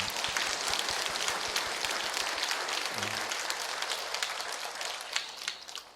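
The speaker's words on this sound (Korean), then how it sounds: "우리 이 시간 다 함께 우리 박수로 이 감사와 영광을 하나님께 함께 돌려드렸으면 합니다." Dense, steady applause from a church congregation during a Sunday worship service fills the space, a continuous wash of clapping that slowly thins out toward the end.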